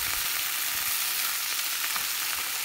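Grated mango and coriander leaves sizzle steadily in a hot pan as they are mixed, a close, even hiss that holds without a break from start to finish.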